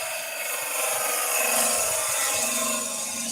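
A woodturning gouge makes its first cut into spinning wood on a lathe, a steady close scraping and hissing rasp that swells slightly mid-cut.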